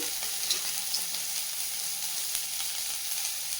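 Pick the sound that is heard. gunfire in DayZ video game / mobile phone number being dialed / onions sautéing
onions sautéing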